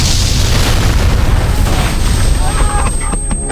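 A loud, sustained explosion effect in a war audiobook, a vehicle blast in Ukraine, rumbling with a broad booming roar for several seconds, with no voice over it.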